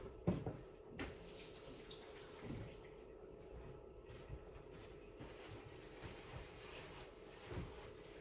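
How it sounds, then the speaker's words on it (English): Hands are rinsed under a running kitchen tap after handling scallops, a faint continuous trickle with a few soft splashes and knocks against the sink, heard alone at low volume. "I'm just gonna go wash my hands to rinse off those scallops"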